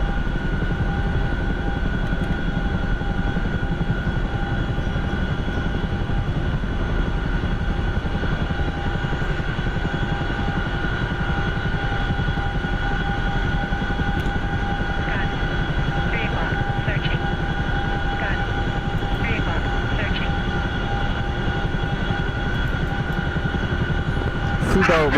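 A fixed-wing aircraft in a combat flight game drones steadily and loudly for the whole stretch, with a constant engine roar and sustained tonal whine, plus faint brief beeps partway through.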